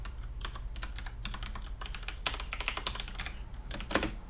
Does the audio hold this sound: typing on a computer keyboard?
yes